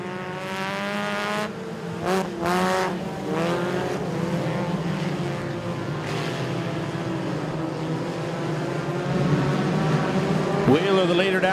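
Compact race cars race on a raceway in a heat of fifteen cars, their engines droning steadily in the distance under a race announcer's ongoing commentary.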